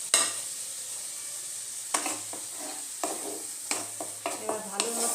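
Spices, turmeric, coriander and Kashmiri chilli powder, sizzle in a kadai while a spoon stirs and scrapes against the pan, with soft steady frying and periodic clanking strokes, no talk.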